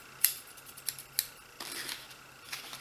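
Heavy shears snip through cardboard in a few sharp, close crunching cuts, with no talk over them.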